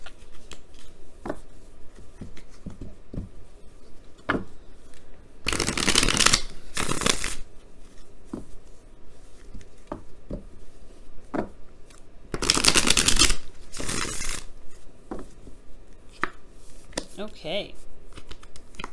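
Tarot cards are shuffled in two brisk, rustling bursts, each lasting a couple of seconds and standing out clearly above a quieter room background with soft scattered clicks.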